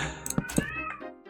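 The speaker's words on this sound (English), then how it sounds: "Sorry if you can hear my cat in the background." A pet cat meows close by in a couple of short, rising cries, with nobody talking.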